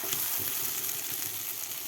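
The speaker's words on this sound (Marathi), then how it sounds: "आता मसाला आपल्याला मीडियम गॅसवर 2 ते 3 मिनिट हे परतून घ्यायचा आहे मसाला." Masala for a village-style egg curry fries on medium gas, a steady close sizzle with faint stirring scrapes and no voice.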